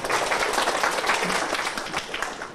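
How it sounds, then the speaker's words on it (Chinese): An audience at a Mandarin speech contest applauds warmly, a dense, continuous burst of many hands clapping in a hall, fairly close and loud throughout. "是不是给我一个热烈掌声啊"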